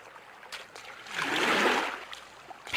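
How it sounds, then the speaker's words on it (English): Canoe paddles dipping and pulling through river water during a long-distance paddling race on the Red River at a park boat launch, a soft swelling wash and splash that peaks midway, with faint trickles before and after. "Paddles moving through the water."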